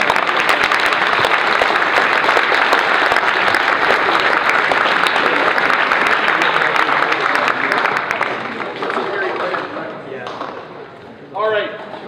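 Loud, dense audience applause fills an awards ceremony at a season opener for a sponsor, sustained for about nine seconds before thinning out, with a voice emerging as it fades.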